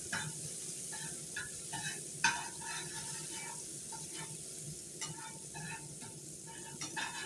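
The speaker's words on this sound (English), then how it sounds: "when hot, toss in all that garlic. You hear that sizzle?" Garlic sizzles steadily in hot oil, a bright crackling hiss with scattered pops and light stirring clicks, close and fairly quiet.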